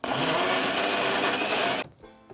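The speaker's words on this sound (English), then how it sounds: "Let's blend it up." A blender purées softened cooked vegetables for a grilled chicken dish, a loud steady whirring grind close by that runs for nearly two seconds and then cuts off abruptly, leaving a faint clatter.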